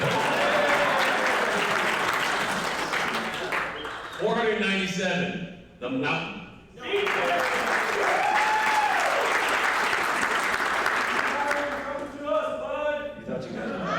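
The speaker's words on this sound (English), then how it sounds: "Clap for them." A crowd at a US Masters event claps for teams as each is announced, bursts of applause broken by an announcer's voice and brief gaps, with laughter and cheering woven through.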